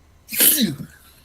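A single sharp sneeze bursts out close and loud on a talk show, a quick intake followed by an explosive exhale that fades quickly.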